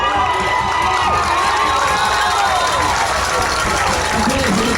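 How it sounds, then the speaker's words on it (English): A loud high school football crowd roars and cheers steadily at a Stilwell Indians versus Broken Bow Savages game, with shouting voices mixed into the sustained din throughout. "I'll let the crowd tell you if they get the first down."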